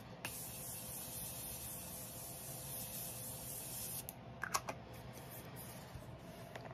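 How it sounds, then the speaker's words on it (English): A faint, steady hiss of Morphe makeup setting spray runs for several seconds, then stops, followed by a few soft clicks and rustles. "So now I take my Morphe setting spray. I'm gonna spray it."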